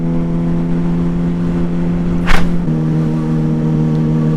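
A motorcycle engine drones loudly at a steady low pitch, held in first gear at about 30 km/h, with a brief whooshing pass midway.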